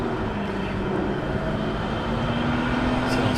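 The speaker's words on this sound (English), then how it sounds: "I'm hearing some kind of helicopter or something in the background there." A military helicopter drones in the background near a live camera feed in Israel, a steady, broad rumble with a faint, rising hum running through the whole stretch and no speech.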